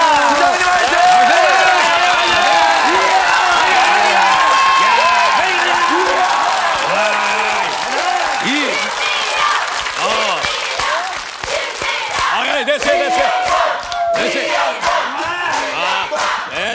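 A studio audience on a Korean TV family game show cheers, shouts and applauds loudly and continuously, with many voices chanting and yelling over the clapping.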